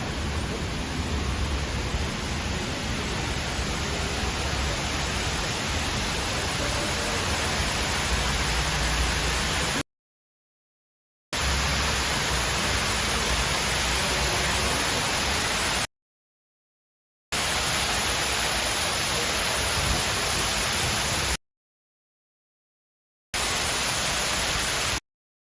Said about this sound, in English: You can just hear the waterfall from a mile away.